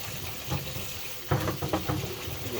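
Tap water runs steadily over cooked spaghetti being rinsed in a kitchen sink, a close, soft splashing wash with a few louder spatters as the pasta is moved under the stream.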